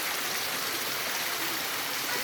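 Kawa-kawa waterfall in Pilar, Capiz pours in a dense, steady roar of falling water, loud and close, with no other sounds breaking through.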